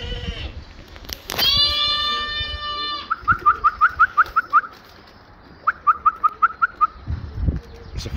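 A person whistles to call homing tumbler pigeons outdoors: first one long, steady whistle, then two bursts of quick, repeated short chirping whistles, fairly close and clear.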